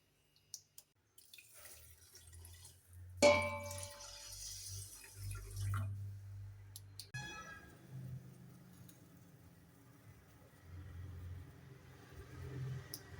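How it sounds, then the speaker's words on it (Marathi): Water pours into sugar in a pan to make syrup for boondi laddoos, heard as a soft splashing trickle with a brief louder pour, followed by quieter liquid sounds in a near-silent kitchen. "ही जी साखर आहे ती साखर बुडेल एवढं आपल्याला पाणी घालायचं आहे ह्याच्यामध्ये"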